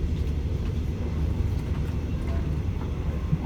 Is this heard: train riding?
yes